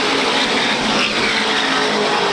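SK Modified race cars roar around the Waterford Speedbowl in a 1993 feature race, a dense, continuous wall of loud engine noise from a pack of cars running close together through the turns.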